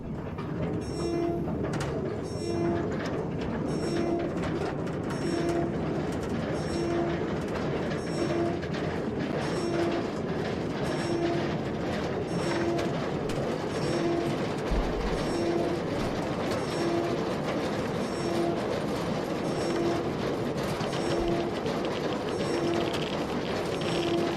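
Train riding along in the horror game Entity: The Black Day, a steady mechanical rumble with a regular clicking beat repeating roughly every second, loud and continuous throughout with no talk.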